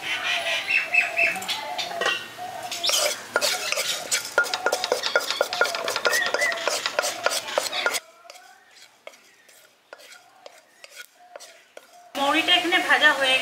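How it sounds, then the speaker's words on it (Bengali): Fennel seeds dry-roasted in a hot iron wok, a spatula scraping and stirring in quick repeated strokes, clattering loudly for several seconds, going quiet with faint bird chirps, then resuming. "এই মৌরিটা আগে শুকনো কড়াই ভেজে নিয়ে এটা তুলে নেব"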